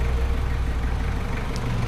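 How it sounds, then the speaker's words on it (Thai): Nissan Frontier 4x4 pickup with a PD25 2,500 cc intercooled diesel engine idling: a steady, even low rumble with no other sounds. "เครื่องยนต์สตาร์ทไปเลยแล้วกันนะครับ ได้ฟังเสียงหน่อยนะครับ"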